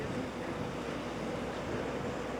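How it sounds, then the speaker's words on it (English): Ocean waves crash into a small protected cove on the Nova Scotia coast, a continuous broad roar of surf and wind buffeting the microphone, heard alone without talk. "Look at those waves smashing in this room"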